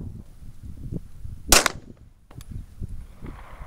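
A single sharp shot rings out from a Strike One LRC 2 pistol fitted with a 5-inch barrel, one loud crack with a brief decay, set against quiet outdoor background noise.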